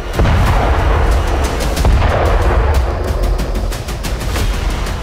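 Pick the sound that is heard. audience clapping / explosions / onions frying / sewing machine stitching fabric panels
explosions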